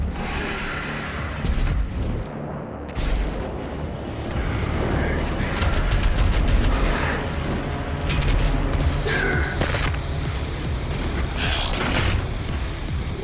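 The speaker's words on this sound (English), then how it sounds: "If you can fire a sticky bomb or frag grenade into its mouth, it instantly staggers" Sticky bomb or frag grenade launched at a Cacodemon in Doom Eternal: loud booming blasts and bursts of gunfire over a constant roar of combat, with the heaviest hits early and near the middle.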